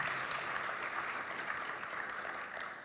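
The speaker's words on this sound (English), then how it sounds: "give both of these gentlemen a big round of applause" A live audience at a church debate between an atheist and a Christian claps together, a dense, steady wash of applause that stays loud and even throughout with no one speaking over it.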